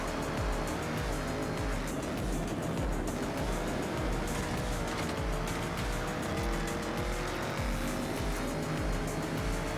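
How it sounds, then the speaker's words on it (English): Subaru in Forza Horizon 6 driven hard off-road like a monster truck, its engine and transmission working steadily and loudly throughout, with tire noise and a dense, continuous mechanical roar and no talk. "But you can hear the transmission just working away."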